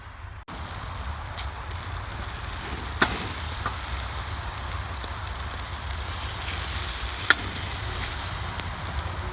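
Steaks seasoned with pepper and paprika sizzle steadily on a barbecue grill after being flipped, a continuous crackling hiss with occasional sharp pops, moderately loud and close.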